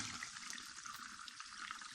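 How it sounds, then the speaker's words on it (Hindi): Starch water for halwa is poured into a pan of caramelised sugar, giving a steady close hiss and trickle of liquid that runs evenly throughout without talk. "अब ये निशास्ता का जो पानी है वो इसमें डाल देंगे।"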